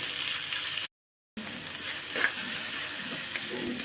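Small shallots sautéing in oil in a pan for a mushroom fry, a steady low sizzle with occasional light stirring, interrupted by a brief silent gap.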